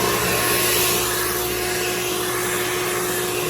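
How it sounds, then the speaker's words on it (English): A vacuum powering a DIY carpet extractor runs with a loud, steady whine and roar, close by and unbroken for a few seconds, with no voices. "Turn the vacuum on."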